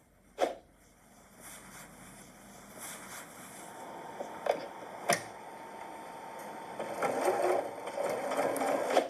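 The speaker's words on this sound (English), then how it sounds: "sewing all the way around the top perimeter" A Janome sewing machine stitches around the top edge of a tote bag, a soft steady mechanical whir that builds and grows louder toward the end, with a few sharp clicks and knocks along the way.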